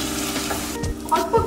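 Dal sautéing in a hot pan for an egg and dal dish, a continuous close frying hiss with a few quick stirring scrapes and clinks near the end.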